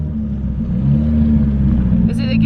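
A Nissan S15 car with a faulty gearbox gives off a steady low rumbling drone with a grinding hum, close and loud, then a brief higher whine near the end.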